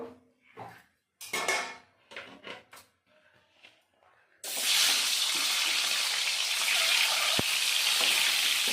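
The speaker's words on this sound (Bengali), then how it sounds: "ওই তেলে ডিমগুলো ভেজে নেবো" Eggs fry in hot mustard oil for a spicy Bengali kosha dim, a loud steady sizzle and crackle that starts abruptly after a few seconds of softer kitchen handling sounds and then fills the rest of the clip.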